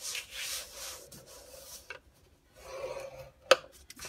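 Paper being scored on a scoring board at the 1.5 inch mark for a card box, heard as soft rubbing, rasping strokes in short passes with a sharp click near the end, close and fairly quiet.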